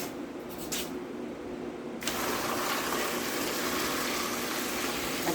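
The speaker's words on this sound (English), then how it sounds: "So I got to scald them with boiling water." Boiling water pours over tomatoes in a container for scalding, starting with a faint trickle, then a steady, full gushing stream that runs close and constant to the end.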